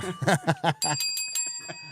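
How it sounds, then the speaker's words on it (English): A vintage hotel desk bell from the 1920s is struck once and gives a bright metallic ring that lingers and fades. Someone talks just before the strike and speech continues softly while it rings. "this was a vintage hotel bell from like the 20s"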